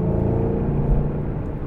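Steady low rumble of a 2014 Shelby GT500 engine held at light throttle, close and continuous with a faint whirring layer and no voices.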